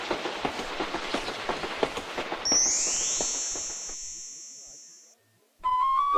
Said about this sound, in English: Clickety-clack, clickety-clack, the yellow train car chugs down the track